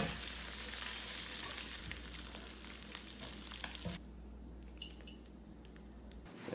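Browned bacon in rendered fat sizzles and spits as it goes into a Dutch oven, a steady crackling hiss that drops to a quieter simmer partway through, with no talk.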